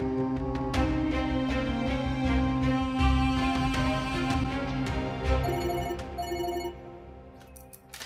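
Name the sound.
telephone ringing, phone left at home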